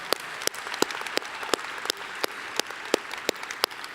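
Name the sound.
audience applauding graduating students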